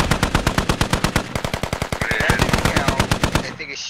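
Rapid automatic gunfire in the military shooter game Squad, a dense, steady stream of loud close shots filling nearly four seconds before cutting off abruptly.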